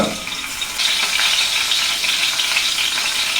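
Steady, loud sizzling of curry leaves frying in hot coconut oil, a continuous crackling hiss with no voices.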